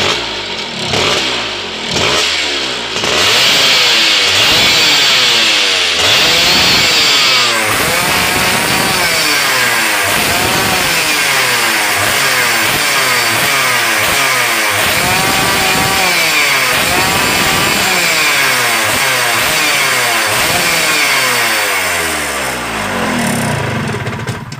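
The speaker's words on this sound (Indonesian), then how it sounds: "Ini kita gaspol terus." Two-stroke motorcycle engine held near full throttle during main jet carburetor tuning, a loud, close, raspy buzzing drone with rapid rhythmic revving surges that keeps going without pause, no talking over it.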